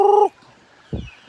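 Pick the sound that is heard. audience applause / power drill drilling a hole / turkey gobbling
turkey gobbling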